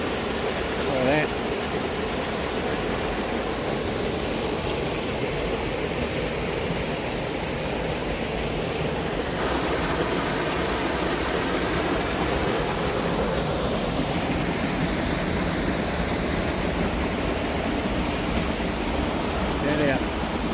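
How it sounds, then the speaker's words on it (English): A waterfall along a river track in New Zealand's Silver Peaks, heard as a constant broadband rush of falling water, loud and steady throughout with no break. "Waterfall."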